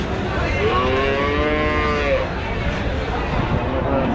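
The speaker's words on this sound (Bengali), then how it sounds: "এখন গাব গরু দেখাই" A cow gives a long, loud moo close by at a cattle market, rising then falling, over steady background noise and murmuring voices.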